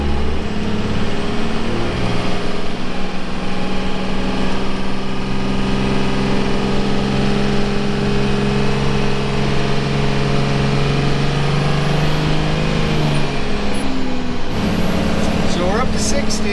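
A car cruising at about 60 miles per hour, with steady loud engine drone and road rumble throughout, a faint rising whine near the end, and a voice talking over it.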